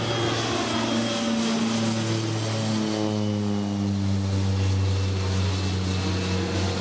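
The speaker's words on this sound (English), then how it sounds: "I've never been on a float plane before." Loud, steady droning of a float plane's propeller engine, close and continuous, with a low throbbing hum and rising tonal whine throughout.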